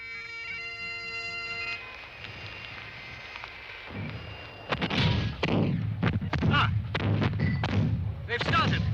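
Cannon artillery fire on the Culloden battlefield: after a droning tone, a run of sharp booming reports begins midway and repeats irregularly, loud and close, with a voice speaking over it.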